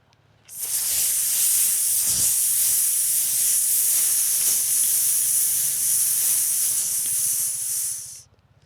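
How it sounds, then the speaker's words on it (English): A long, steady hissing S-sound exhale during a qigong breathing sequence outdoors in the Andes mountains, sustained evenly for about eight seconds at close range, starting and stopping abruptly, with no talking. "exhaling all the way with that S sound"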